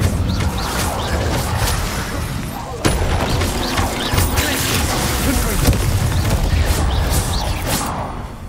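The Incendio fire spell cast repeatedly in Hogwarts Legacy: loud, dense bursts of fiery blasts and crackling impacts in a continuous combat barrage, with a sharp strike near the three-second mark.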